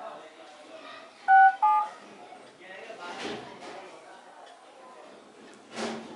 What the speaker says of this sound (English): just go to the dialer,